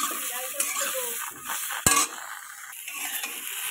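Salted jujube pickle is stirred in a pan, a spoon scraping and clinking against the metal over a soft sizzle, with one sharp knock partway through.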